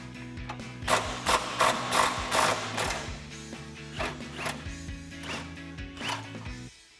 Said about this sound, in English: we're going to use our 15 millimeter socket to remove this upper bolt here on the sway bar link